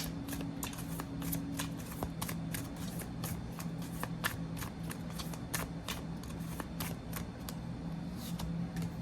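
Tarot cards are shuffled over and over, a crisp riffling patter repeating in quick bursts close by, with a low steady hum in the background.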